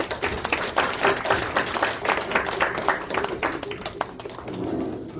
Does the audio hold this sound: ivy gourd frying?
no